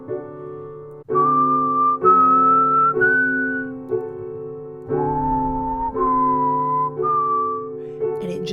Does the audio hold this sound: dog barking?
no